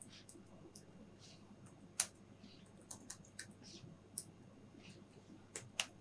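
C program code typed on a computer keyboard: faint, scattered key clicks and a few sharper taps over a low steady hum, close but quiet, with no voices.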